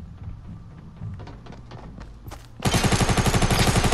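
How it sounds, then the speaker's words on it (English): Fortnite gunfire: scattered thumps and footsteps give way to a loud, sustained rapid burst of automatic fire that runs to the end. "I hear fucking guns"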